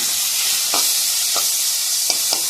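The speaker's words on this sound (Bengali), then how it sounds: "চিংড়ি মাছটা একটু ভেজে নেব" Shrimp with turmeric frying in a pan with potato, a steady loud hissing sizzle throughout, broken by a few brief scraping stir sounds from a utensil.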